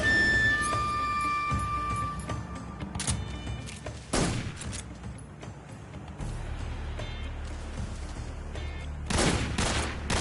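Gunfire from the video game Metal Gear Solid 3: Snake Eater on PS5, with several sharp loud shots spaced across the stretch, some in quick bursts, over a low game ambience.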